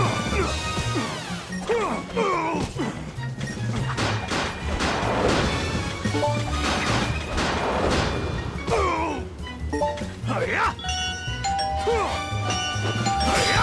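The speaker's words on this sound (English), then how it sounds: "Why are the QuickTime event sounds doorbell ringings?" Doorbell-style ding-dong chimes signal quick-time events in the video game Sonic Unleashed, ringing several times over busy game music, crashes and whooshes.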